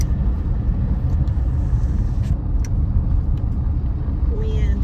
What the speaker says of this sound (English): You can probably hear that wind.